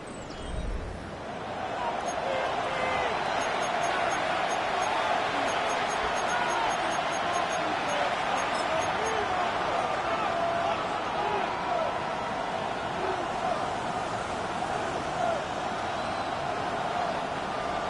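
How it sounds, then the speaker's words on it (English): Broad, steady roar of a stadium crowd in a Madden NFL playoff game, a dense wash of cheering and murmur that swells in after a second and holds evenly throughout. "The crowd making their presence felt."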